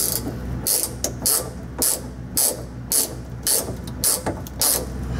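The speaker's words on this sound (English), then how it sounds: "And then we tighten them down." A ratchet tightens the bolts of boat cleats on a Bayliner Bowrider 175 in a regular series of short, close clicking bursts, about two per second, with no talking.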